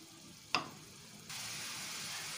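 Pineapple chutney simmers and is stirred in a pan over a medium flame, giving a quiet steady sizzle with one sharp utensil clack and a brighter hiss rising partway through.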